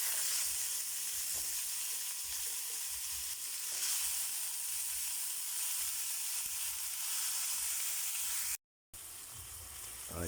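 Chicken frying in a pan for pineapple chicken, a steady soft sizzle and hiss that runs unbroken at close range, broken once by a short silent gap near the end.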